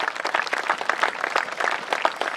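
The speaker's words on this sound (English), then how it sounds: "I want you to give all of the people of St. Martin a round of applause for supporting our young star." Audience at a St. Martin celebration for a young West Indies cricketer breaking into applause, a lively, close crowd of clapping hands sustained throughout the short stretch.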